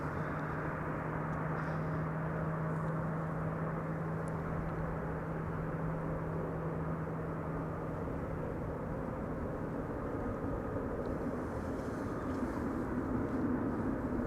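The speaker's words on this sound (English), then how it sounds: "This is KLM flight 1602 arriving from Rome." A steady, distant jet roar rumbles on throughout as a KLM Boeing 737, registered PH-BXH and about 24 years old, comes in from Rome, with a low constant hum and no voices.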